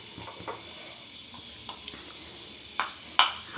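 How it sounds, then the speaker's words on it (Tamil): Fenugreek seeds fry in a pan of hot oil, giving a faint, steady sizzle with a few sharp crackles and stirring scrapes near the end. "வெந்தயம் போட்டு அது நல்லா பொரியட்டும்"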